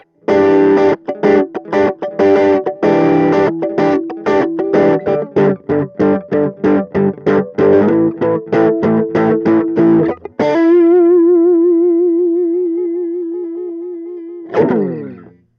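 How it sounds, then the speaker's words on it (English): Electric guitar through a Vox AC2 RhythmVox mini amp on its distortion setting, heavily distorted, chugging rapid palm-muted chords, then letting a sustained chord ring with wobbling tone before a final hit. "So last up is our distortion setting or overdrive setting."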